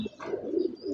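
Freed domestic pigeons coo close by, a soft, throaty, rolling call that starts with a short note and then sustains for most of the second.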